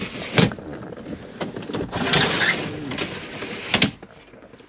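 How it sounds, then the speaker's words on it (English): A Remis cab blind slides shut inside the cab of a 2016 Auto Trail Mohawk motorhome, giving a close rasping scrape with a few sharp clicks and knocks. "it's fitted with Remus cab blind, so if you pinch and slide along"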